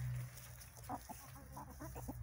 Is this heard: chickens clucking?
yes